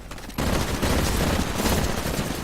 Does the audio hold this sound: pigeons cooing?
no